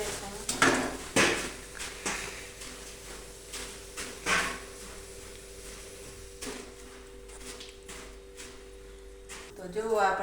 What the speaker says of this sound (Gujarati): ચાસણી થઈ ગઈ છે રેડી હવે આપણે મમરા નાખી દઈશું